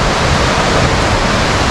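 Soochipara waterfall in Wayanad, running with little water, pours as a loud, continuous broadband rush with no break or voices over it.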